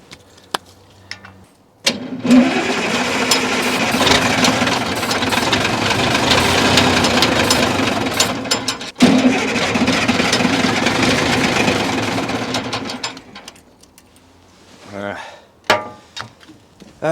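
A Fiat Allis track loader's diesel engine fires up on ether and runs loud and rough for about ten seconds, outdoors in falling snow, then cuts out and leaves quiet handling noises.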